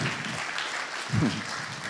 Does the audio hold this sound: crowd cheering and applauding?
yes